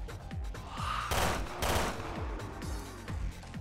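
Rapid bursts of gunfire crackle in the Raid Mode of the video game Resident Evil Revelations 2, with dense overlapping shots and impacts in a steady, chaotic barrage.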